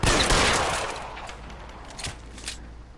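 A loud gunshot burst in the video game L.A. Noire opens sharply and then decays into a fading echo, followed by a few fainter distant pops.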